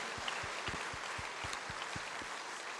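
A church congregation claps together in praise during a revival service, steady rhythmic claps at roughly even intervals, moderately distant and fairly quiet, with a soft hum underneath.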